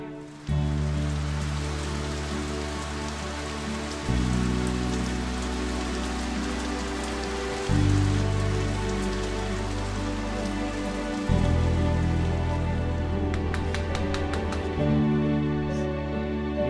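Steady rain falling on a surface, a constant close hiss of drops lasting throughout, with a low musical drone underneath and no talk.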